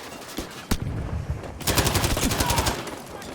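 Rapid automatic bursts from a medium machine gun in Battlefield 5, a short volley followed by a longer sustained stream of close, loud gunfire.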